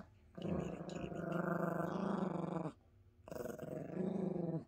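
A Yorkie dog growls while playing tug with a carrot, two long rumbling growls close up with a brief quiet pause between them, no talking.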